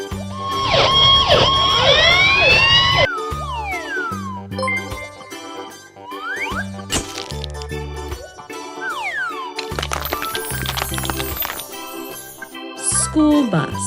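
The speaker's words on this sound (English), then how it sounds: "Fire engine." A toy fire engine plays a warbling electronic siren with jingling tones and springy boing effects. The sounds are loud and close and change through the clip, and there is no speech.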